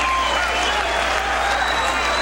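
A boxing crowd applauds and roars after Mike Picciotti's fourth-round knockout of Kevin Rooney, a loud, dense, continuous wash of clapping and cheering that fills the whole span, with voices mixed in.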